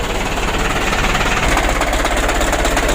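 A 120 PS Ragasa truck engine running rough and misfiring with the cab raised, a loud, continuous rapid knocking chatter heard close up with no one talking.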